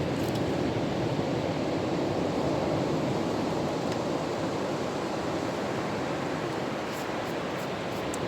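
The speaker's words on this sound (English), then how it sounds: "We got big waves out here today." Big ocean waves break at a beach in a continuous broad roar of surf with wind, loud and steady throughout, no voices.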